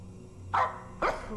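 A dog in a video game gives two short barks about half a second apart, over a steady low background hum, with no talking.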